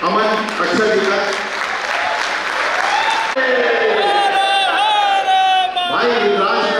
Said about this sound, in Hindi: जोरदार तालियों से स्वागत करें अमन अक्षर जी का।